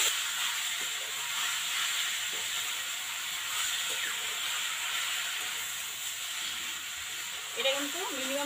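Taro greens being stirred and fried with a hilsa fish head in a pan, giving a steady broad sizzling hiss throughout, with a brief faint voice near the end.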